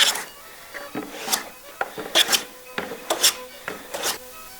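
A wooden triplane hand plane shaves a wooden board in a series of short, rasping strokes, about eight quick passes in an uneven rhythm, close and fairly loud with no talking.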